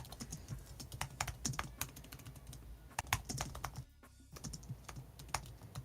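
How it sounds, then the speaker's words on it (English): Computer keyboard typing over voice chat, a quick run of crisp, irregular keystrokes at low volume with a brief pause midway, heard alone. "I love keyboards. I love just hearing them on VC."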